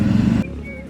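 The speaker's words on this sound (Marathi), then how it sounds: "हे बघा थांबा तुम्हाला गाडी जाते" A vehicle passes on the Mumbai–Nashik expressway, its engine a close low rumble that cuts off abruptly partway through, leaving a quieter roadside hum.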